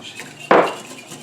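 Oil and an egg being mixed in a bowl to make cookie dough, a single sharp clink of a utensil against the bowl followed by a short scraping rustle, close and fairly loud.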